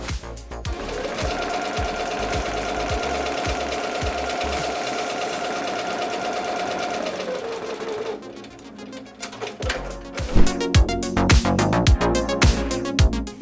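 An embroidery machine stitching an applique patch hums with a fast, loud, steady mechanical rattle for about eight seconds, pauses, then runs again as a more irregular clatter of rapid needle strikes.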